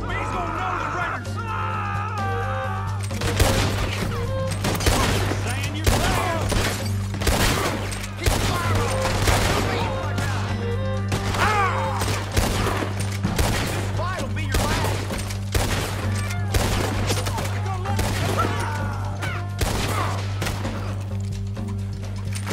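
Heavy gunfire from a big mounted gun during a Red Dead Redemption 2 shootout, dense rapid bursts of shots and impacts over a steady low drone, with a voice calling out briefly at the start.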